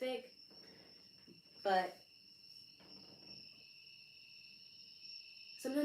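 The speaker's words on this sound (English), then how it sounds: "I got these damn crickets" Crickets chirp in a steady, continuous high-pitched drone throughout, running under a person's live talk and a few louder spoken bursts.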